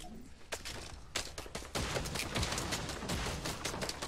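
Enemy gunfire in a battle royale style shooter video game, a dense fusillade of rapid cracking shots in quick bursts, fairly close and loud throughout.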